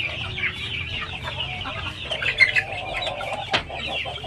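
Half shamo and asil chickens clucking in a farmyard, several birds making short repeated clucks at moderate distance, with a sharper squawk near the end.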